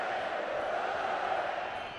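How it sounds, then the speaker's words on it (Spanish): Tenerife fans cheer and chant in a packed stadium during the derby against Las Palmas, a steady, loud crowd roar that carries without a break and sounds fairly distant. "Escuchamos a los aficionados chicharreros animando al Tenerife."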